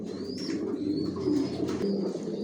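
Original Johnson line long-distance racing pigeons in a breeding loft give low rolling coos that rise and fall, mixed with thin chirps and a brief rustle, close by and without voices.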